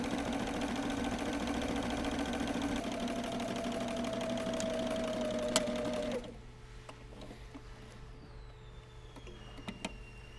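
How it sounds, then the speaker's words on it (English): Sewing machine stitching a bungee cord tunnel seam on a car seat cover, humming steadily and fairly quietly for about six seconds, then stopping, leaving faint clicks and handling noises. "I sewed the bungee cord tunnel seam at this point"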